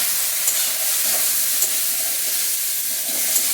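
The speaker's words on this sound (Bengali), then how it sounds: "এরপর দিয়ে নাড়াচাড়া করে সবগুলো একসাথে ভালো করে কষিয়ে নেব।" Coconut flower curry with spices and ground black pepper frying in a pan while being stirred, a loud, continuous close sizzle with soft scraping from the stirring and no voices.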